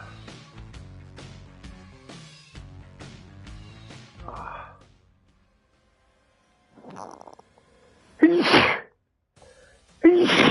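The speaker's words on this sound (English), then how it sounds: "Oh, these sneezes, bro." Two loud, close sneezes burst out a couple of seconds apart after a pause, with music and a short exhale before them.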